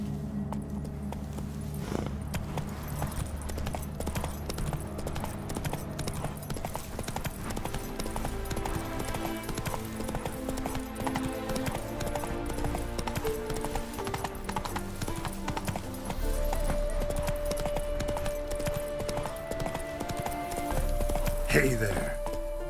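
Roach, a horse in The Witcher 3: Heart of Stone, clip-clops steadily at a walk over a game score, with voices talking over the hooves and a brief whinny near the end.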